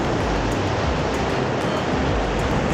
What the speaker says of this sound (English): Cool little waterfall here.